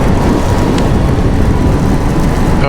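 Steady heavy rain rushing around a Kawasaki ZH2 superbike on a road ride in Australia, a loud continuous wash of noise with no clear breaks and no talking.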